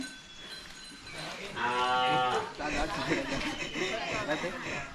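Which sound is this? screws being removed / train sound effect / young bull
young bull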